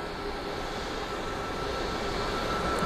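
Aircraft engine drone near Cleveland Hopkins airport in heavy rain and fog, with Pilatus PC-12 turboprops diverting in; a steady, broadband roar holds evenly at moderate loudness throughout with no talk.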